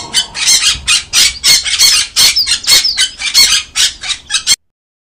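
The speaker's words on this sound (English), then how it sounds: "P for parrot." A parrot squawking in a rapid series of loud, harsh, close screeches, about a dozen bursts in quick succession before stopping abruptly.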